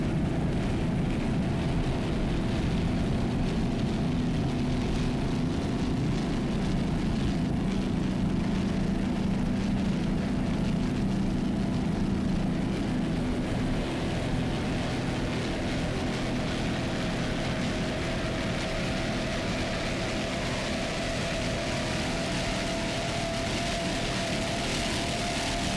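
Racing powerboat engines roar at the 2002 APBA World Championships race, a loud, continuous broadband drone that holds steady for the whole stretch with no voices.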